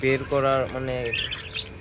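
Pet budgerigars chirp up close in a short, bright burst of warbling calls and quick tweets.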